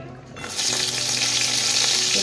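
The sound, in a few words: frying bori (lentil dumplings) in oil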